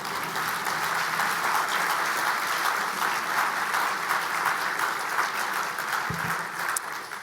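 Continuous audience applause at a literary awards ceremony, an even, moderately distant clatter of many hands clapping that holds steady throughout.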